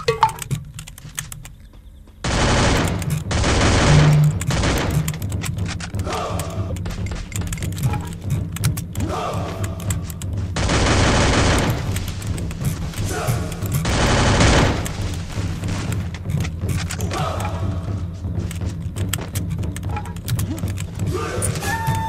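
Gunfire rattles in the Free Fire video game as a player jump-shoots, rapid automatic bursts come and go over steady game noise, with keyboard tapping close by.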